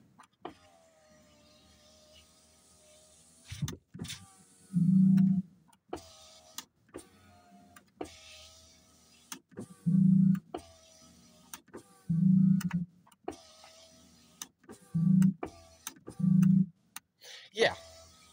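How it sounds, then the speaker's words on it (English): A 2024 Ford Maverick XL power window motor groans in five short, loud bursts, each about a second long, spaced through quiet cabin ambience with occasional clicks. "The window makes weird groaning noises"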